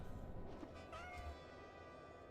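A cat meows in the video game Goblin Cleanup, one short tonal call rising and falling near the middle, heard over a steady bed of game background noise.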